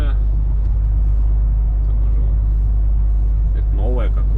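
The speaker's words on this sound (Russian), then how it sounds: "Ну, сейчас будем по МКАДу ехать, посмотрим." A car driving along the Moscow ring road (MKAD), a steady loud road rumble and engine drone filling the whole stretch, with a brief tonal squeal near the end.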